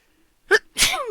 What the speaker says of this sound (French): Et j'en éternue de joie.